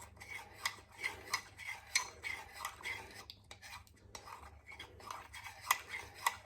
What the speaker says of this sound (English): You just have to give it a good stir,